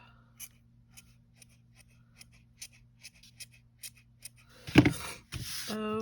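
Scissors snip repeatedly through acrylic yarn while trimming a gnome beard, a series of small, quiet, close cuts at an irregular pace over a low hum, ending with louder rustling and handling.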